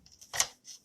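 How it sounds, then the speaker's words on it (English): A paper trimmer slices through cardstock in one short, close swish that builds and fades within a second, with a fainter scrape trailing after. "I'm going to get out my paper trimmer"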